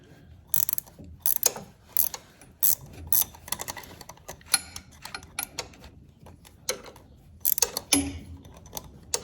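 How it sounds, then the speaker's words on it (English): Ratchet spanner turning a nut on an exhaust fitting, a series of sharp metallic clicking bursts in quick irregular runs, close and fairly quiet, with short pauses between strokes. "Wrong way, ratchet spanner."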